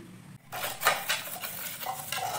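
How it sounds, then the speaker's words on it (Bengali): Oil is brushed around the inside of a metal bowl before cake batter goes in, giving close scraping and clinking strokes of utensil on metal in a quick, uneven rhythm. "তেলটা ওই বাটিটার মধ্যে বুলিয়ে নিচ্ছে যাতে পেপারটা ধরবে না"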